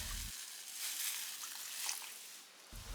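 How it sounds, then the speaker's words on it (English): Water poured into a pot of fried garlic as the base of a chili beef noodle soup broth, a steady broadband pouring rush lasting several seconds, close and fairly quiet, with no talk. "pour in 500 ml of water"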